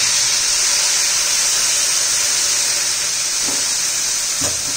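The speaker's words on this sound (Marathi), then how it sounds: "आपण यात ना आता गरम पाणी घालणार आहोत थोडंसं" Hot water poured into a pan of sizzling brinjal masala gives a loud, steady hiss of steam and frying that fills the whole stretch, with a couple of soft clinks near the end.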